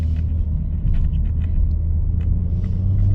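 A 2024 Volkswagen Golf R drives on the road ahead, heard as a steady low engine and road rumble from inside a following car, continuous and moderately loud with no talk.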